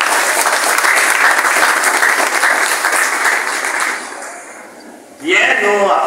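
A church congregation claps loudly and continuously during a worship service, a thick wash of hands that gradually thins and fades before a voice breaks in at the close.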